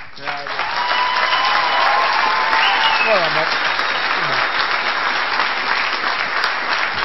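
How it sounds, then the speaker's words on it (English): Sustained applause from an awards-celebration audience at the F1 in Schools 2013 World Finals in Austin, Texas, loud and steady throughout, with a voice speaking over the clapping partway through. "give you one more round of applause"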